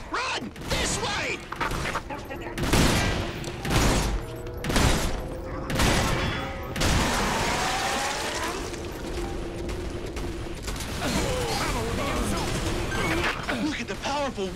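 Repeated shotgun blasts and heavy gunfire from the Earth Defense Force 5 video game, a dense run of loud bursts in the first seven seconds giving way to steadier mechanical and battle noise with voices underneath.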